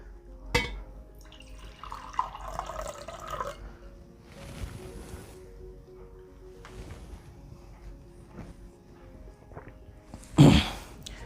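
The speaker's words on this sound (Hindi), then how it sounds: "अब हम इसमें डालेंगे पानी, नॉर्मल पानी है" Plain water is poured into a container indoors, a soft trickling and splashing with faint drips, ending in a brief louder splash; fairly quiet overall with no talk over it.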